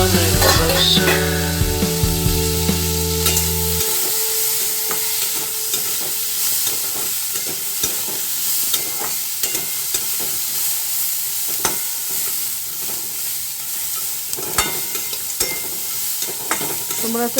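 Curry leaves sizzle and crackle in hot oil in a pan while being stirred, a steady frying hiss with scraping stir strokes throughout, close and fairly loud, after a brief low tonal hum at the start.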